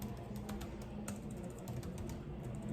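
A computer keyboard is typed on in a few light, scattered key taps under a steady background hum, faint and close, with no voice.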